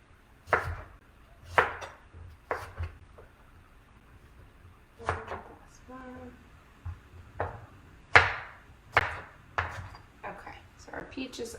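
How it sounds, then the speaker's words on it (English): A knife dices peaches on a cutting board in about a dozen sharp, close chops, spaced unevenly with pauses between, over a quiet background with a faint voice briefly present. "peaches all diced up"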